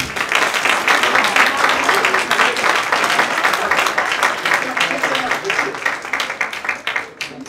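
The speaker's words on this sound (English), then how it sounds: "Give them both a round of applause." Audience at a Chabad tenth anniversary gala breaks into steady, dense applause, loud and sustained for several seconds before easing off slightly at the end.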